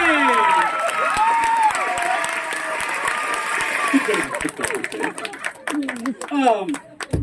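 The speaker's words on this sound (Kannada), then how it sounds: "ಡೈಲಾಗ್ ಮುಗೀತಪ್ಪ, ಚಪ್ಪಾಳೆ" Audience applause fills a stage show hall, dense clapping with scattered shouts and cheers, loud and sustained before thinning into sharper individual claps and voices toward the end.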